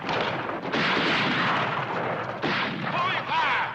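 Gunfire in a western shootout: dense, loud bursts of shots and ricochets crowd together with barely a pause, with a few whining ricochets near the end.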